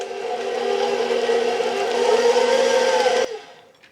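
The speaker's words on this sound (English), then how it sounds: "Now I add the eggs one at a time, mix each one in before I add the next one." An electric mixer beating eggs, added one at a time, into lemon cheesecake batter: a steady, loud motor whir with a slight rise in pitch, then an abrupt stop and a brief fade as the mixer switches off.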